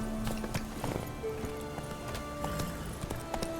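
Roach, the horse in The Witcher 3, trotting with a steady clip-clop of hooves, moderately close, over quiet game ambience.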